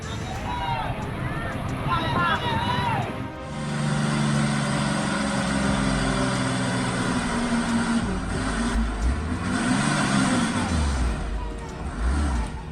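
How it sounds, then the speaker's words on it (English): A heavily loaded Hino Tough truck straining up a muddy slope, its engine droning low and steady with rising revs, close and loud under voices and crowd chatter. "the Hino Tough truck strains helplessly amidst a cloud of thick smoke and dust"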